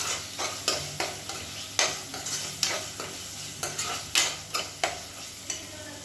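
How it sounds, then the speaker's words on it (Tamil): Onion with ginger garlic paste sautéing in oil, a constant sizzle broken by repeated sharp spoon scrapes and stirs against the pan at an uneven rhythm, close up with no voices. "இந்த வெங்காயம் இஞ்சி பூண்டு பேஸ்ட் வந்து வதக்கையில் நல்ல ஃப்ளேவர் வரும்"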